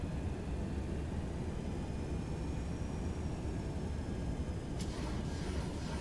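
Boeing 727 airliner in the X-Plane 11 flight simulator slowing on approach with flaps extending, a steady broadband engine and airflow roar with faint whining tones, continuous and even throughout, with a brief click near the end.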